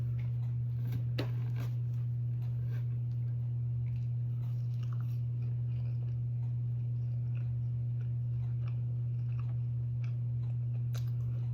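Someone bites and chews a warm, soft low-carb keto English muffin, with faint crunchy, moist mouth sounds scattered over a steady low electrical hum and no talking.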